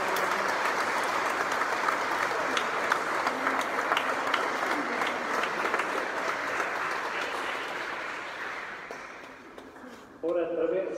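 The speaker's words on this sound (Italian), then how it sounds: "Accogliamo con un bel applauso." A church congregation at Sunday Mass applauds after a baby's baptism, a dense, sustained clapping from a large crowd in a reverberant hall that gradually thins and fades, followed by a brief burst of organ or voice at the end.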